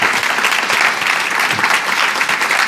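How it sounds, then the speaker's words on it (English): A large crowd at a Data Science Festival applauds loudly and continuously, dense clapping filling the whole moment without letup. "please give them a huge round of applause"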